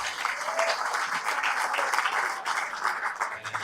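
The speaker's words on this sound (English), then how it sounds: "I'd really like another round of applause for Lisa" Sustained crowd applause, a dense wash of many hands clapping at steady loudness for a few seconds.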